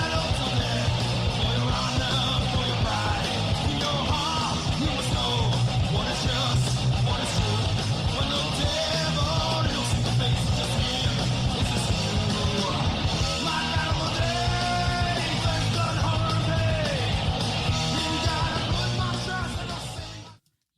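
Recording of a band: a dense, loud full-band rock mix with driving drums, guitars and soaring vocals, continuous throughout before cutting off at the end.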